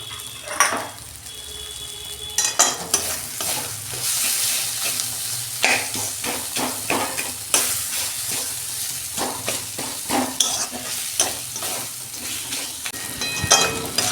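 Ground spices, including chilli and roasted cumin powder, sizzle steadily in hot oil while a utensil scrapes and stirs the pan in repeated strokes, close by, with no voices.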